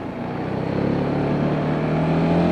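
KTM 690 Duke motorcycle accelerating, the engine pitch climbing steadily through a short, loud pull, close by with no speech.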